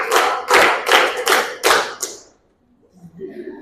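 Schoolchildren in an Indonesian classroom clap a counted pattern together, five loud, near, evenly spaced group claps in unison that then break off into a quiet pause with faint scattered sounds.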